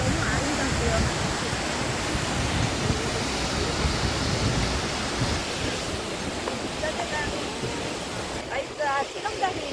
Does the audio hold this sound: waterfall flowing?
yes